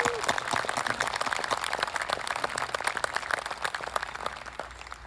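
Audience applause at a school graduation ceremony, a dense patter of clapping filling the hall steadily throughout, with some voices mixed in underneath.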